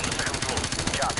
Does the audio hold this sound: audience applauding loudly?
no